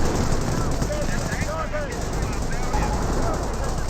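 Heavy gunfire in a Company of Heroes battle as Kangaroo armoured carriers come under attack, a dense continuous rattle of machine guns with scattered shots, loud and sustained throughout with a voice talking over it.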